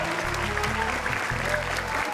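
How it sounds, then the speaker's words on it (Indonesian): Studio audience applause on a children's Quran memorization television competition, steady clapping over a low, sustained musical drone that pauses and resumes. "tepuk tangan untuk Husnul."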